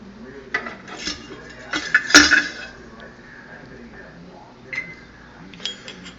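Priming sugar being dissolved in a pot for bottling homebrewed beer, with metallic clinks and scrapes of a spoon against the pot, one sharp clang in the middle, close by, with a voice talking over part of it.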